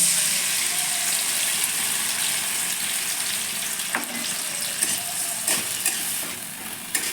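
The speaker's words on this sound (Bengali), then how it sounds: "মশলাটা ভালো করে কষিয়ে নেব" Ground spice paste and tomato sizzle loudly in a pan for a Bengali doi pabda fish dish, a dense steady hiss with a few scraping stirs close by, and no one speaks.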